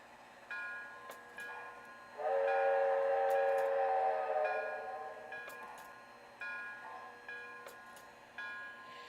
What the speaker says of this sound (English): Oh, that was a 3 whistle.